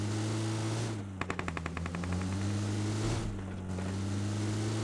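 A rapid string of about nine evenly spaced automatic gunshots in PUBG Mobile, sharp and fairly close, cutting through a steady droning engine hum.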